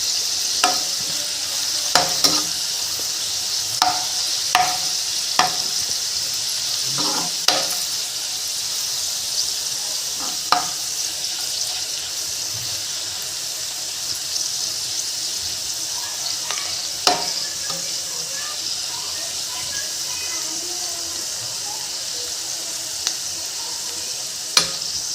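Cluster beans fry in a pan cooked in a village style, giving a constant soft sizzle broken by sharp, scattered clicks of a spatula scraping and stirring.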